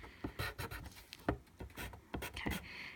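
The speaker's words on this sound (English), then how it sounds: "I'm just kind of scribbling, not being very specific as to where I'm going" Watercolor pencil scribbling on paper while filling in pine needles, a series of quick, close scratchy strokes in irregular bursts, quiet and dry.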